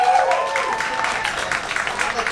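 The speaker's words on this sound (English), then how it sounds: "Clap your hands for Matt Walker and the Roast Beef King." Crowd at a live comedy roast-beef sandwich contest clapping steadily for a contestant, a dense mid-distance patter with voices mixed in.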